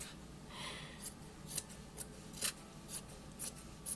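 Scissors snip through fabric for an idol dress in a series of short, crisp cuts spaced about half a second apart, close and fairly quiet with no talk.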